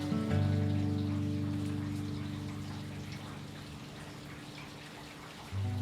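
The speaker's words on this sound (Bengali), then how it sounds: "এবারে আমি এর মধ্যে অ্যাড করে দেব জল।" Water poured into a frying pan for momo soup makes a steady rushing, rain-like patter and sizzle that slowly fades over several seconds, close and continuous, over a low steady hum.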